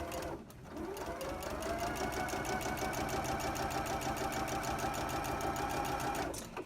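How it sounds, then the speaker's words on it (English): Domestic sewing machine stitching a quarter-inch quilting seam at 2.0 stitch length, running steadily and close up for about six seconds with a fast, even mechanical rhythm before stopping. "So I'm just going to go ahead and I'm going to sew that down."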